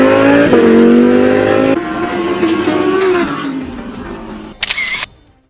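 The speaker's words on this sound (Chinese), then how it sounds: "现在我们所处的是一条专业的直线加速赛车场" Race cars, including an Audi R8, launch side by side on a professional drag strip, their engines revving hard in a loud, rising roar that fades as they pull away, followed by a short sharp click near the end.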